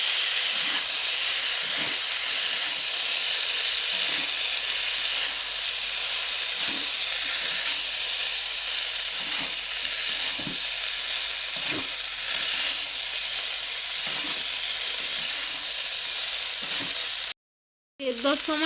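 Boiled peas and potatoes cooking with spices in a pan make a strong, steady hiss and sizzle, with soft scraping taps at intervals and a brief cut near the end.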